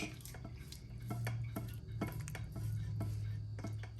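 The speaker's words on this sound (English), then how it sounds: "we're going to dump him in this beautiful casserole dish" Sausage stuffing scraped and dumped into a casserole dish, with repeated clinks of a utensil against the dish and soft wet thuds of the mixture, close and steady over a low background hum.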